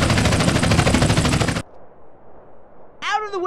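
Sustained burst of automatic gunfire from the video game GTA San Andreas, loud and close for about a second and a half, then cutting off to quiet rumble before a short voice line.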